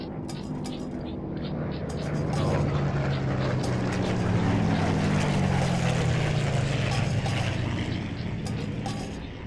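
A Rolls-Royce Merlin engine on a Spitfire in a flight-maintenance game drones with a steady propeller roar that swells after a couple of seconds and holds loud and continuous.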